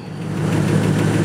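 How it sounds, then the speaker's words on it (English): A failing engine fan motor on a 1997 Land Rover Discovery gives off a steady close hum with a rough, buzzing vibration throughout, with no talking. "I think the fan might be going out, or the fan motor is what I've been told."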